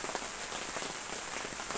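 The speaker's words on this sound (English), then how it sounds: "Pissing raining." Heavy rain pouring down in Ireland, a dense, steady hiss of drops hitting surfaces, close and unbroken for the short stretch with no voices.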